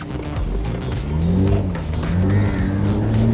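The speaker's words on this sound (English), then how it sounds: "That sound that it's creating right now from the engine, it's so good to hear" A Mercedes SLK 350 roadster engine revs and pulls with a deep, throaty growl that rises steadily from around 2000 RPM, loud and close, with no talking.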